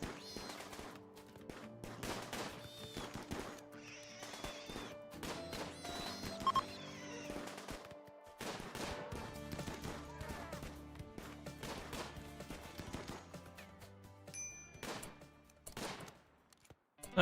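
Gunfire from a bolt-action sniper rifle in the colony game RimWorld, sharp shots scattered among game music and effects over a steady background score.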